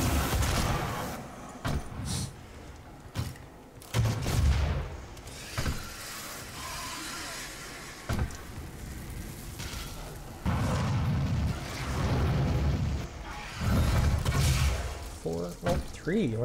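Shotgun blasts in Doom 2016 on Ultra Nightmare, several sharp booming shots at irregular intervals amid explosive game combat, with someone talking over much of the action.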